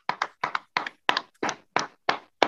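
Rhythmic hand clapping, eight sharp evenly spaced claps heard close and clear, from an audience welcoming guests onto a stage, with no talking.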